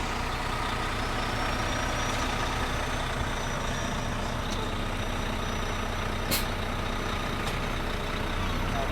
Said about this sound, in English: I'll just use the tractor parking brake to release them.